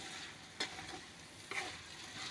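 Paprika being stirred into a ginger pickle, two soft scraping strokes of a spoon through the mixture, close and quiet, with faint sizzle-like texture between them.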